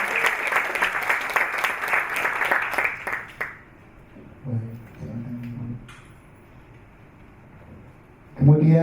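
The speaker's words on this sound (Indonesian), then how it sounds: "Boleh kita berikan tepuk tangan untuk narasumber kita yang kedua" An audience at an Indonesian youth panel discussion on hate speech applauds a speaker with dense, lively clapping that fades after a few seconds, followed by someone speaking over a microphone and a short later burst of sound.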